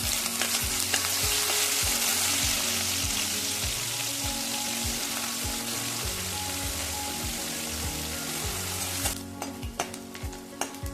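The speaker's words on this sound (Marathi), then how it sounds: "आता आपण पहिल्यांदा पनीर भाजून घेऊया" Paneer pan-roasting for sabudana khichdi sizzles loudly and steadily up close, with a repeated rhythmic scrape of a spatula stirring, easing off near the end into scattered clinks.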